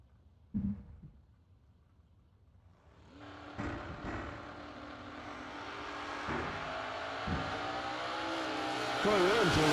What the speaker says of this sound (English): Dialed 562, taking on Brad Northrup. Northrup dialed 644 in his Mustang in the right lane.